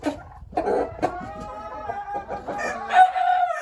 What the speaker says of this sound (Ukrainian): Отакі у нас уже індики.